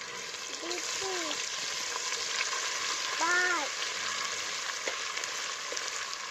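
Cumin, mustard seeds, garlic and ginger fry in hot oil with a steady, moderately loud hiss and faint crackle, while a voice briefly speaks over the sizzle.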